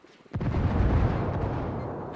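An artillery strike in the video game Ghost Recon Wildlands, a sudden loud boom that rolls into a long, heavy rumble lasting to the end.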